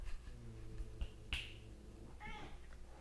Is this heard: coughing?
no